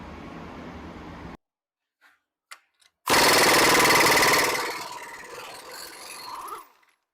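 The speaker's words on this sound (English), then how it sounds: "I'm going to go ahead and remove the wheel" Removing the rear wheel of a Subaru Crosstrek during a wheel bearing replacement: a steady mechanical whir, then a few sharp clanks, then a loud, close, rattling burst of a power tool that tapers off after several seconds.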